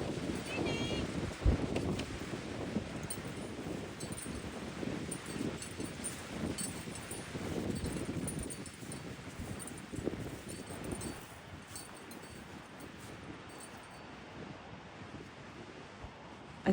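Gusty wind buffets the microphone outdoors on a hillside, a steady low roar with rustling texture throughout, swelling in places and easing slightly toward the end, with no clear speech over it.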